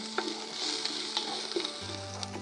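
Venison meat browning in a hot pan, a steady close sizzle and crackle of frying with occasional spatters and light stirring clinks, no talking.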